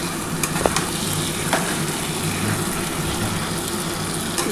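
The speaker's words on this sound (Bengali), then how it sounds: "চিংড়ি মাছটা একটুখানি কষিয়ে নিই।" Prawns fry in a hot pan while being sautéed for a taro curry, giving a dense, steady sizzle with a few faint clicks and scrapes of stirring. No voices are heard.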